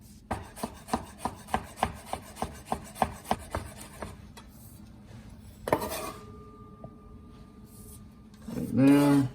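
A knife cuts fresh mint into chiffonade on a cutting board, making a quick, even series of crisp taps. A thud and some clatter follow, then a short spoken bit near the end.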